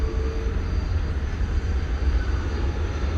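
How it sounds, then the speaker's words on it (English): A UPS aircraft taxis at DFW Airport at night, its jet engines giving a steady, continuous low rumble with a faint whine on top, moderately loud and unbroken, no talking. "Got another UPS aircraft pulling out at this time."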